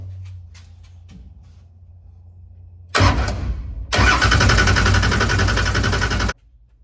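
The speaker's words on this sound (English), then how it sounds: "spin the car over, maybe that'll help" A car engine cranks over loudly under a steady low hum, first a brief grinding crank and then a longer sustained churning crank for a couple of seconds before stopping abruptly.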